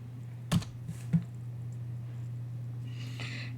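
Keys tapped on a computer keyboard while entering an exact search term on a Linux system: two distinct clicks early on, then quieter scattered taps over a steady low hum.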